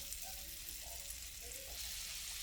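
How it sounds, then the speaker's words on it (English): Butter melting in a hot pan just used to cook chicken gives a steady, soft sizzle and fry hiss close by, with no talk over it. "I'm going to go ahead and add the butter in to basically deglaze the pan."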